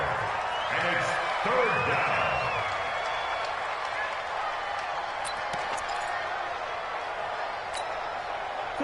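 Stadium crowd in an American football video game roars steadily ahead of a big third down, a dense, continuous wash of cheering with broadcast commentary talking over it throughout.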